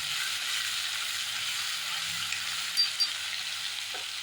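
Ground onion and tomato masala for shev bhaji fries in a pan with a steady, even sizzling hiss. Two brief clicks from a utensil cut in near the end.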